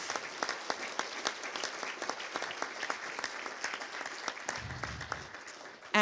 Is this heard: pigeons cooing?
no